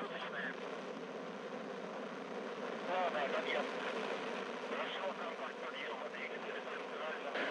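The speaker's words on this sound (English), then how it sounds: "Engines up to flight speed." Soyuz-2.1a rocket engines roar at full thrust just before liftoff of a Progress cargo launch, a broad, steady rushing rumble heard from a distance, with a commentator speaking faintly over it.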